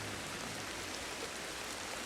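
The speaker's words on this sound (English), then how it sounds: "it's starting to rain" Steady rain falls in the survival game Ancestors, a soft continuous hiss of drops that holds even and unbroken throughout, with no voices or other sounds.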